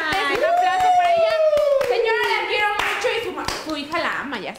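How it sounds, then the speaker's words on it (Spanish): Studio audience on a Spanish-language TV show claps in a quick rhythmic burst for a guest's mother's birthday, close and lively, with a voice singing or speaking over the clapping throughout. "Un aplauso para ella."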